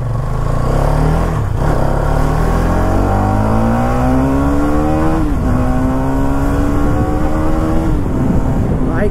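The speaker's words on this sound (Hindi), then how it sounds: "भाई कमाल की चल रही है मोटरसाइकिल ये" A 2024 Hero Karizma XMR 210 motorcycle pulls away in first gear, its engine note climbing steadily in pitch as it revs up, easing, then rising again, loud and close throughout.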